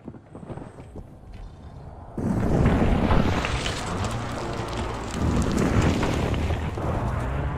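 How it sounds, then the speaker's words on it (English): Heavy precision airstrike explosions in Warzone, a low rumbling roar that swells suddenly after a quieter opening and then holds as a loud, sustained barrage. "Enemy precision airstrike. Find cover."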